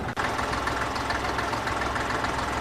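Home-built tandem tractor conversion at a working vintage tractor show, its engine running at a steady idle with a continuous throbbing, knocking drone, close and constant throughout.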